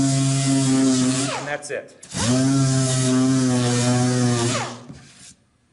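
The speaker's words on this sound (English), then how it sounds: "I'm going to go back and I'm going to lightly sand the stiles with the grain" A power sander runs on the stiles of a small wooden chest, a loud steady droning whine for over a second, a brief stop, then a longer pass before winding down, with a short spoken phrase near the end.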